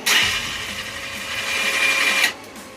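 A 2002 Honda 300EX ATV engine with a suspected slipped cam chain cranks over: a steady, fairly loud mechanical whirring runs for about two seconds, then cuts off abruptly.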